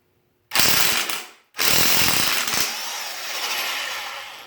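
An impact wrench spins off a harmonic balancer bolt in two loud bursts: a sharp rattling hammer of about a second, a brief pause, then a second longer run that trails into a steady mechanical whir.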